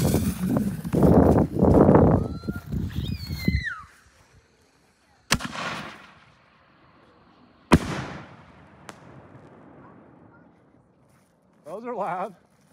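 Nishiki firework shells explode in two or three sharp, loud booms, each followed by a long crackling decay. A person talks beforehand, and voices come in again near the end.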